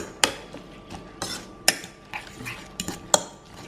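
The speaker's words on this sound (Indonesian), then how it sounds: "engkol ungunya masuk wortel cincangnya masuk kita aduk semua" A spoon scrapes and clinks in a pan while purple cabbage and chopped carrot are stirred together, giving sharp, irregular metallic taps over a soft rustle, close and moderately loud.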